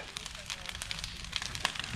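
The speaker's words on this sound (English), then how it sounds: "the bonfire." An outdoor bonfire on a property near a shed, steady faint crackling and popping with scattered sharp snaps, while a person talks quietly nearby.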